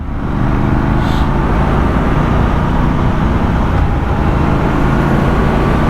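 Steady, loud roar of wind buffeting a rider on a Triumph Scrambler 1200 XE motorcycle at speed, with a low engine and road drone underneath, continuous and unbroken throughout.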